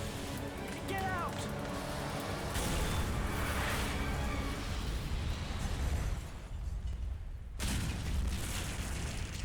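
A large explosion tears through a motel in the video game Resident Evil Outbreak, a loud sustained rumbling blast with crackling debris that briefly drops out, then surges back, with game voices heard over it.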